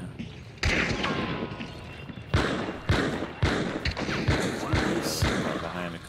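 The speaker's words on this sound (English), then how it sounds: "they're shooting at him now" Gunfire in the video game Hunt: Showdown comes as a series of sharp booming shots spaced a second or so apart, mid-distance, while players talk over the shots.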